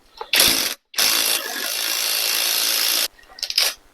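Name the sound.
socket ratchet loosening stuck engine head bolts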